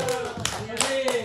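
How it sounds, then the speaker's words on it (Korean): Applause from a small family group at a Lunar New Year gathering before a bingo game, a few brief bursts of hand clapping close by, with people talking over it. "자, 박수 한번 주고 시작하겠습니다."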